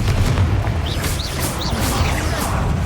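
Confringo fire curse in Hogwarts Legacy bursts in loud, dense blasts with crackling debris and whooshing magic over constant battle noise, several hits rolling together in a short burst.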